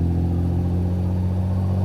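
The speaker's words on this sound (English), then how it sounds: "I'll just take it down to 1500 revs" A Ferrari-engined Fiat Dino Spider held at about 1500 rpm, giving a steady, loud, low engine drone with strong even harmonics and no voices.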